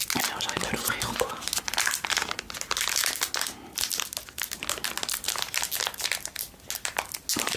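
Someone opens a plastic skincare package, producing close, busy crinkling and tearing of plastic throughout, with a soft, whispery voice under the rustling.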